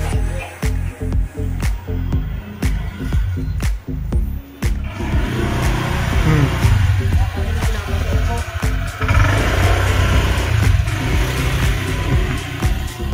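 A motorcycle engine runs nearby with a continuous rumbling drone, rising slightly in the second half, broken by sharp clicks and knocks.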